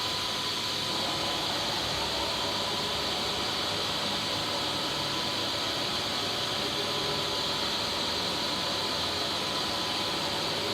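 A NAXOS CNC multi-axis cylindrical grinder runs both spindles at once, giving a steady, loud, broadband hiss and whine that holds constant throughout with no breaks.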